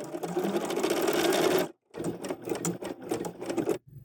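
A sewing machine set to a 5 mm stitch width runs steadily while stitching a strap onto a paisley fanny bag, then stops briefly and restarts in a second loud, close burst.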